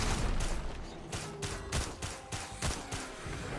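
Bombs going off in modded Risk of Rain 2, a rapid string of sharp blasts and bursts in quick succession with lingering game noise underneath.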